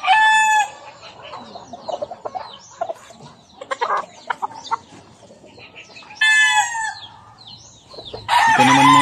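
A white Kelso gamefowl rooster with a straight comb and white legs crows loudly several times, with clucking and softer fowl calls in between, close by with no talk.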